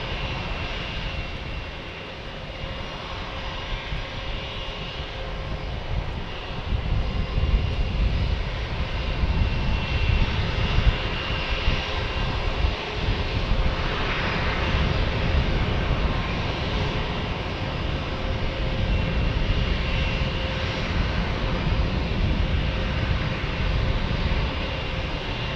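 A plane arriving at San Diego airport from San Francisco roars steadily and loudly overhead, a broad sustained engine rumble that swells slightly midway and carries on without letup.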